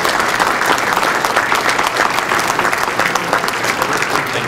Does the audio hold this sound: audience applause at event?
yes